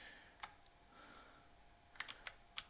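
Computer keyboard keys tapped in a few sharp, light clicks, one early and a quick cluster near the end, close and fairly quiet over a faint room hiss with no talking.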